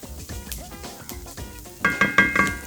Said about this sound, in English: give this a stir for a few minutes just to get all the herbs and the garlic nice and fragrant